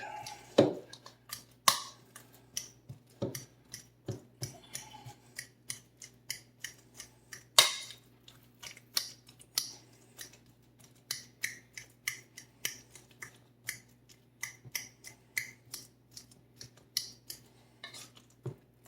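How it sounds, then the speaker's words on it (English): Ripe bananas being mashed with a fork in a bowl for Jamaican banana fritters: close, sharp metallic taps and clicks in an irregular but steady run, quiet between strikes, with no speech. "we're gonna mash these up using the fork"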